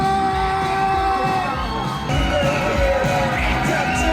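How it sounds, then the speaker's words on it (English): Wedding guests at a reception cheer, yell and whoop for a newly announced married couple, a loud, dense crowd roar with music underneath. "I need you to scream, I need you to shout"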